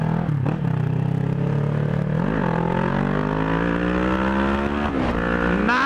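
A car engine revs loudly and continuously, its pitch sweeping up and down in several surges, close by with a rough, clattering edge and no talk.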